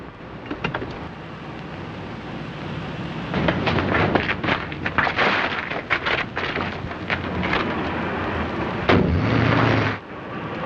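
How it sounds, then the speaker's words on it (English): A rumbling explosion effect from a 1938 radio drama, with booming, crackling blasts and a roaring tail, loud and sustained, ending abruptly near the close. "Explosion in 93 Madeira Drive"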